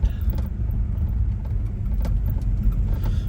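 A 1958 Plymouth, a four-door converted from a 1957 Dodge, with its engine running steadily, a close, loud low rumble from inside the car with a few slight surges and no talk.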